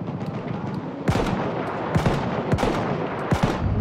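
Repeated bursts of gunfire in Battlefield 1, single shots and short volleys crack out over a constant noisy backdrop, loud and close, with sharp gaps between rounds.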